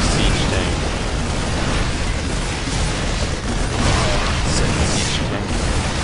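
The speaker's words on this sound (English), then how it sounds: "Down goes the siege tank." A siege tank blown up in StarCraft 2, a dense, loud wall of explosive rumble and crackle sustained for several seconds with no break, chaotic battle noise filling the whole clip.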